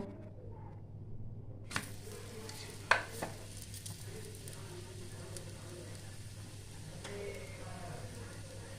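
Aloo paratha stuffed with potato, chili and coriander roasting on a hot pan, giving a faint, steady sizzle with a few light scrapes and one sharper knock partway through.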